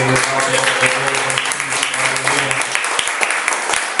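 A church congregation claps in rhythm during a festive worship service, steady loud applause filling the room with music or voices beneath, the clapping thinning to scattered claps toward the end.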